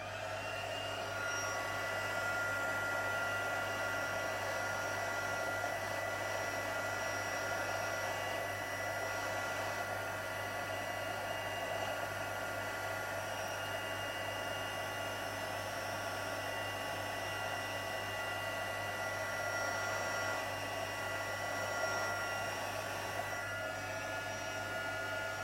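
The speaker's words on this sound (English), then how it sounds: "So I'm going to bring my heat tool in and I'm just going to quickly heat that up." A heat tool blows steadily to melt embossing powder into a glossy design, a constant close whirring roar with a low motor hum that holds unchanged throughout the long stretch, with no talking over it.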